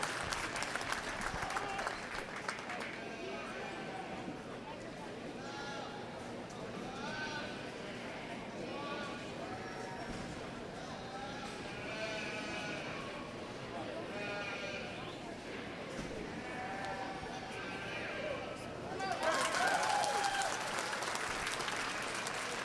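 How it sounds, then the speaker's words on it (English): Steady audience applause fills an arena at a youth livestock show for goats, with goats bleating throughout, crowd murmur beneath, and a louder swell of clapping near the end. "Let's give them all a round of applause."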